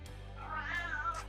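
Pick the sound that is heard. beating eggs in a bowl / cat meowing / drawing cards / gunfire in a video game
cat meowing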